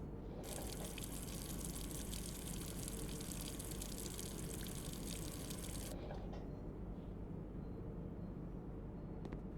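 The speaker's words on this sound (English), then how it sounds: "That water sound was very..." Water pours steadily from a watering can in the video game Blue Prince, a continuous bright gush that runs for about five seconds and then cuts off, leaving a low background rumble.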